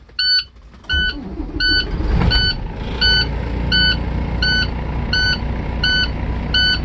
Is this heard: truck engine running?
yes